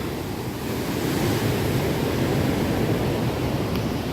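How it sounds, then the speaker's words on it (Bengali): Guyangan Waterfall on Nusa Penida, Bali, as a steady, loud roar of rushing water mixed with wind buffeting the microphone, broadband and unbroken throughout with no voices. "জল দেখো, জলের প্রেসার দেখো, মানে উতাল পাতাল হচ্ছে পুরো"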